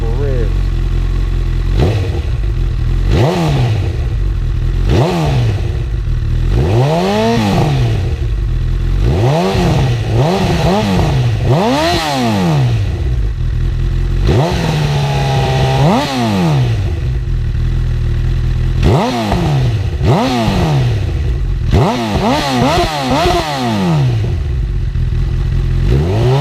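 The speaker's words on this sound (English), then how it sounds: "All right, let's give it a couple of revs." A Honda CB1000R motorcycle fitted with a new slip-on exhaust idles loudly and is revved repeatedly in short bursts, the engine pitch rising and falling sharply over a steady rumble.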